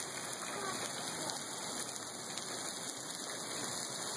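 Hail pelts a car's roof and rear glass during a hail storm, a dense, even hiss of countless small impacts heard from inside the vehicle, steady and faint.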